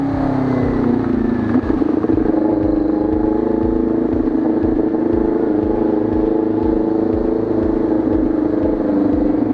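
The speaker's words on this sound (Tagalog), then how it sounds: "May parang motor dito sa gilid eh." A Kawasaki Ninja 400 motorcycle engine idles and putters close by with a steady low rumble, amid the continuous drone of surrounding traffic.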